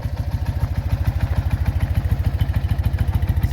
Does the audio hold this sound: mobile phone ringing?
no